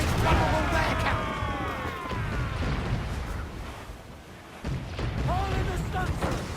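Ship cannons fire in Assassin's Creed 4 Black Flag as deep rumbling booms roll under constant battle noise, with a loud blast near the start and another around the midpoint, while voices shout and call out over the din.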